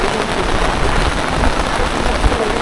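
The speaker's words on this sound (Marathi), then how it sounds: "ठीक आहे, आता तुफान पाऊस आलाय." Heavy monsoon downpour at Raigad Fort, a loud, dense, continuous roar of rain hitting surfaces close by with no pauses.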